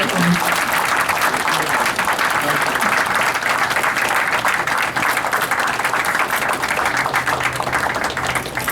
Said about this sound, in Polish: Proszę Państwa, oklaski.